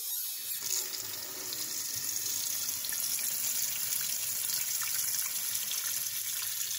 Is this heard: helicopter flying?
no